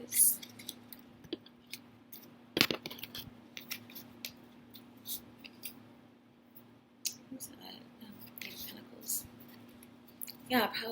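Tarot cards being shuffled by hand, heard as soft, close scattered clicks and light riffling taps with one sharper slap partway through, over quiet background hum.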